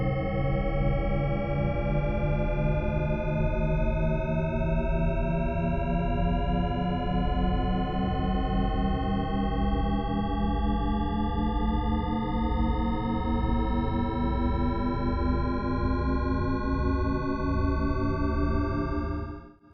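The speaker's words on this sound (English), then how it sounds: "Here's an audio example of the tone." A Shepard tone audio illusion: stacked sine tones glide upward together, seeming to rise endlessly in pitch, loud and steady with no voice.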